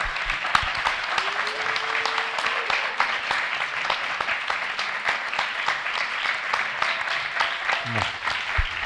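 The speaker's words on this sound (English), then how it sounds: "If y'all would join me in giving some applause to these wonderful panelists tonight." A crowd at an evening panel event claps warmly for the panelists, a continuous layer of applause with a few distinct nearby claps and brief voices mixed in.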